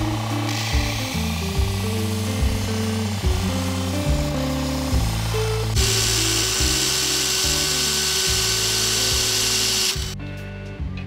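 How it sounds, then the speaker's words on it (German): A power tool grinding and drilling metal whines steadily and loudly with a pulsing low rumble, close up, shifting pitch partway through before briefly stopping near the end. "Dann tun wir das Ganze verschleifen und bohren."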